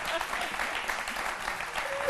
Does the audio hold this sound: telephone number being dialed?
no